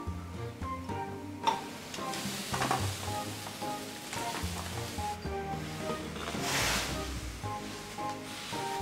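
Noodles stir-fry in a wok with lard, soy sauce and sugar, giving a loud, continuous sizzle with swelling bursts and scraping strokes, and no voices over it.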